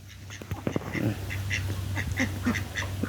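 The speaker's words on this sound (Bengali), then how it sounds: "জাল মারার জন্য হাঁস একেবারে পাগল হয়ে গেছে" A handful of domestic ducks by a village pond quack in short, repeated nasal bursts, fairly close, over a low steady hum, with no speech.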